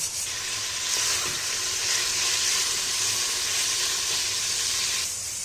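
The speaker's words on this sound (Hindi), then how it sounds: "अभी मैं डालूंगी इसमें थोड़ा सा लहसुन और नमक। डालेंगे सॉल्ट। अब करेंगे फ्राई अच्छे से।" Garlic and salt frying in a pan for a Kashmiri winter rajma dish, a steady, loud, broadband sizzle and hiss that holds evenly throughout with no talking.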